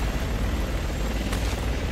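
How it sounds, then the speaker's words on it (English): A helicopter in Resident Evil 6 gives off a steady, dense rotor and engine roar that fills the whole stretch at a constant loudness, with no clear fade as it pulls away. "The chopper's pulling back!"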